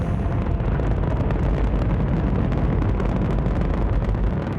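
Solid rocket boosters ignite at a launch, producing a continuous, overwhelming roar that fills the whole stretch with dense, rumbling noise and no pause or talk.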